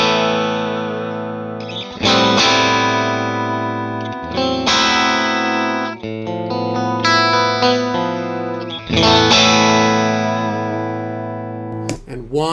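Electric guitars with single coil pickups, Strat, Jazzmaster and Telecaster, miked through a Shure 57 and Royer 121 into API preamps, playing loud ringing chords with several strong strums and sustained decays, ending in a brief clatter.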